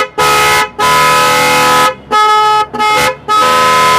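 A car horn blares loudly in several steady honks of varying length, separated by short silences, very close.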